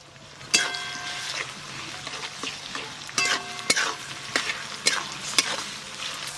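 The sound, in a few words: frying ginger garlic paste and tomato with onions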